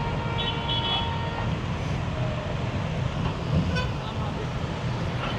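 Steady street traffic in Naples fills the air, with engines rumbling and a few brief car horn toots rising above the din, and voices faintly mixed in.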